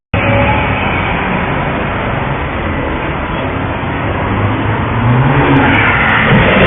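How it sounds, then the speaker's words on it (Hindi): Ferrari sports car engine under hard acceleration just before a crash, a loud continuous roar that swells steadily over several seconds and builds toward the end, with no talk. "आप क्लियरली यहाँ पर फरारी की आवाज़ सुन सकते हो"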